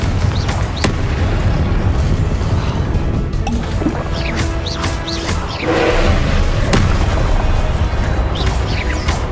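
Confringo spell blasts in the video game Hogwarts Legacy, a loud, continuous barrage of booming explosions and crashing impacts with sharp whooshing streaks layered throughout, dense and close.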